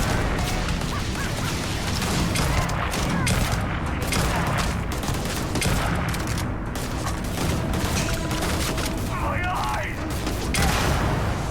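Rifle gunfire in the space shooter Starfield, a dense run of shots and impacts crackling almost nonstop for several seconds, loud and close, with game music and combat noise underneath.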